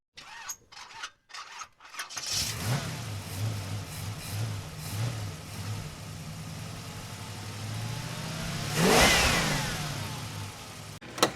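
A 1995 C4 Corvette engine starts after some clicks and knocks, then idles with a steady low rumble and gives one sharp rev that swells and falls away, close and fairly loud.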